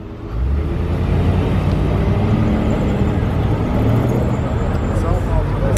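A Range Rover Urban drives past at the Top Marques concours in Monaco, its engine a steady loud rumble with dense traffic noise around it, and people talking throughout.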